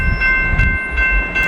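A train rumbles loudly past at close range: a heavy, continuous rail roar with wheel clatter and a sustained horn tone, with no talking.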